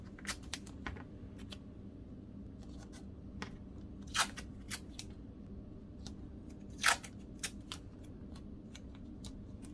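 Tape torn and pressed onto a stencil on a tote bag, a series of short, sharp crackling rips and taps scattered over ten seconds, close and alone above a low hum.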